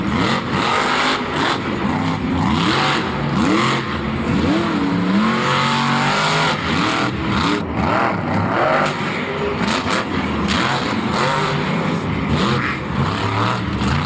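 A loud monster truck engine roars and revs repeatedly at a Monster Jam show in Orlando, pitch climbing and falling in surges, close and continuous without any talking.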